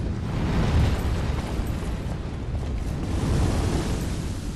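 A roaring stream of fire from a Dark Souls 3 attack, a dense, steady rushing burst that swells and stays loud and broad throughout, with no talk over it.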